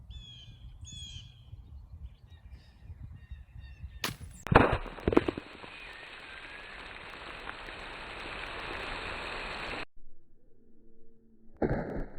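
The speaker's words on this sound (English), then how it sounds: "That baking soda and the vinegar are gonna mix together. It's gonna create our rocket fuel, and then it's gonna launch it." A homemade baking soda and vinegar rocket launching: after a quiet start, a sudden sharp pop and burst is followed by a sustained fizzing, spraying hiss that cuts off abruptly, then faint ambient sounds.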